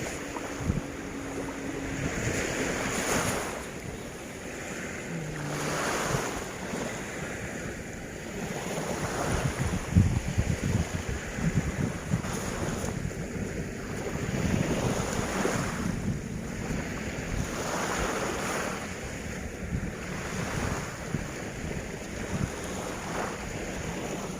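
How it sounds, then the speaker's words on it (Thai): Ocean waves roll onto Bang Saen beach in Thailand on an evening, a continuous wash of surf with recurring swells under steady wind buffeting the microphone. "เอาเสียงคลื่นมาฝากเพื่อนๆนะคะ"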